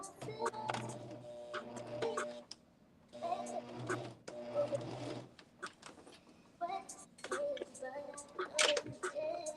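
A sewing machine stay stitching the back of a garment, running in several bursts of rapid mechanical whirring separated by short pauses, close and clear, with a voice talking at times.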